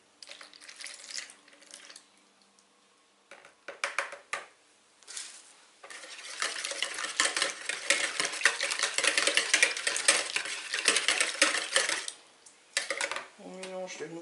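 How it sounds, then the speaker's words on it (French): A spoon stirs cake batter for a zucchini and cheese cake as milk and flour are mixed in, making scraping, clinking strokes in short bursts and then a long, busy stretch of continuous stirring. A voice is briefly heard. "On mélange de nouveau, on y met la farine."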